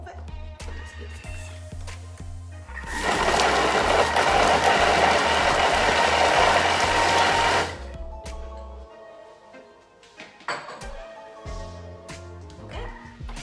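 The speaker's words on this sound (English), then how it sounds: "Now we're gonna mix it all for 4 seconds, speed 6." Food processor at speed 6 blitzing carrot and orange for marmalade, a loud dense whirring burst of about five seconds rising from and falling back into quieter kitchen clatter.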